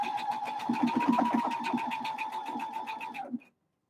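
A sewing machine stitches a cinch bag in a rapid, even run of needle strokes with a motor whine, close and steady, then stops abruptly.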